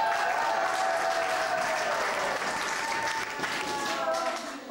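Continuous, even clapping from a theatre crowd at a Dutch cabaret show, this time for the sound technician, with a low tonal hum beneath that eases off toward the end.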